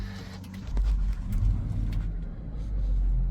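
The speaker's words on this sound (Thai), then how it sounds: "เดี๋ยวลองสตาร์ทรถกัน กุญแจอยู่นี่นะครับ สตาร์ทรถ" Engine of a 2010 Lexus RX350 turning over and settling into a low, steady rumble, close by and fairly loud, with no talking.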